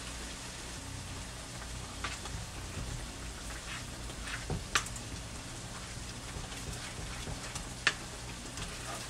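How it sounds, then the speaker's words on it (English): Corn frying in a pan while being stirred, a continuous soft sizzle with scattered scraping strokes and a couple of sharper clicks, close and quiet without talk. "Corn, you want to stir it a lot because you don't want it to stick."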